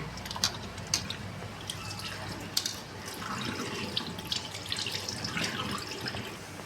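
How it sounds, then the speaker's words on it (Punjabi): Water runs from a tap with splashing and occasional drips while taro roots are rubbed and rinsed underneath, fairly quiet and continuous. "ਤਿੰਨ ਚਾਰ ਵਾਰੀ ਚੰਗੀ ਤਰ੍ਹਾਂ ਮਲ-ਮਲ ਕੇ ਧੋ ਲਾਂਗੇ"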